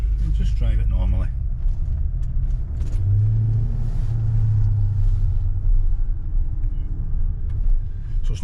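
A Range Rover L405 driving after its throttle body was swapped, giving a steady low engine and road rumble from inside the cabin while people talk over it.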